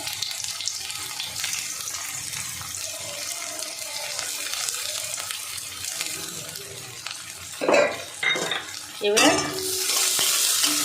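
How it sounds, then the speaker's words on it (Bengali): Steady sizzling of onions frying in oil for hilsa pulao, with a few louder scraping stirs near the end and no voices. "ঘন ঘন নেড়ে নেড়ে ব্রেস্তাটা ভালো করে ভেজে নিতে হবে"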